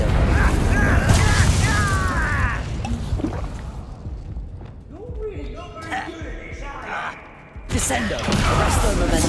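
Fire spell bursts from Hogwarts Legacy combat, heavy whooshing blasts and booms layered with other spell impacts, loud and continuous, with a voice talking over the action.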